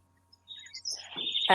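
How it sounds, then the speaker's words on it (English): Birds chirp outdoors in a short burst of bright, high tweets that grow louder toward the end, heard clearly with no speech. "Just the birds."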